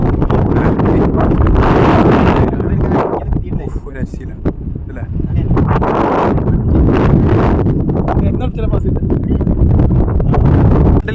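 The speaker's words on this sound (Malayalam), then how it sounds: "കാറ്റ് വൈബ് ഒരു രക്ഷയില്ല" Strong wind at a hilltop viewpoint in Malappuram district, buffeting the microphone with loud, continuous broadband roar and gusty rumbles throughout, with people talking underneath.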